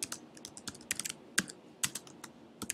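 Keystrokes on a computer keyboard typing a chart title, a quick irregular run of light clicks in bursts with short pauses, close and fairly quiet, no talking.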